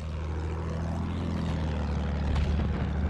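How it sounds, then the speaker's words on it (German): An enemy propeller aircraft in the Battlefield 1 video game drones overhead, a steady low engine hum with a slight swell near the end, heard over distant battle noise. "Feindliches Flugzeug!"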